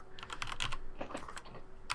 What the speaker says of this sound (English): My keyboard's just noisy.